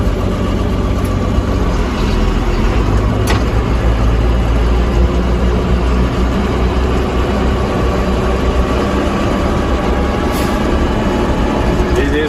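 A 2000 JCB Fastrac 3185 tractor drives in high range, its heavy diesel engine droning loud and steady throughout, close to the listener, with someone talking over it.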